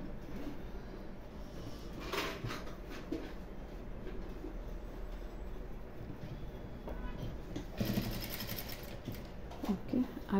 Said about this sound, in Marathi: इथे सेम आपल्याला अशी एक शिलाई मारून घ्यायची आहे।